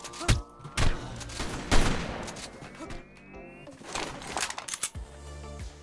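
Shotgun blasts in ARK: Survival Evolved ring out as several sharp, irregular bursts amid other game sounds, with players talking over the action.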